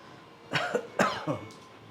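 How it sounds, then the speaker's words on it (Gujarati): A sick man with a cough and dizziness coughs three harsh times in quick succession, close and fairly loud, the last one weaker, with a little breathy noise trailing off after. "ઉધરસ આવે છે અને ચક્કર આવે છે"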